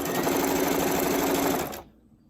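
A sewing machine stitching a ribbon tutu runs loud and close in one steady, continuous burst, then stops abruptly and leaves near silence.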